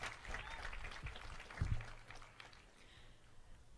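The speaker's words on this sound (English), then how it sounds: "let's give them a round of applause" Graduation audience applauding the custodial staff, a soft, distant patter of clapping across a large space, fading toward the end.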